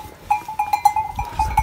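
Last year's lambs and sheep on a village farm, with faint bleats and livestock sounds over a few seconds, fairly close and without talk.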